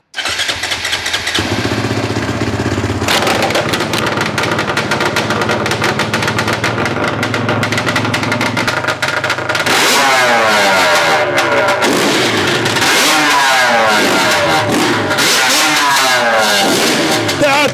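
Dirt bikes including a KTM 520 EXC are started and revved hard outdoors, one engine after another, with loud sustained roaring, sharp throttle blips and rising and falling revs, close to the listener with no talk.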